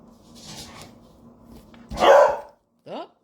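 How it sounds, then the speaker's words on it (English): Pet beagles barking indoors in a home craft studio, a couple of loud sharp close barks following quieter background sounds, with a short yelp at the end. "this is the problem we have with having beagles in the house. If you notice, they're quite vocal."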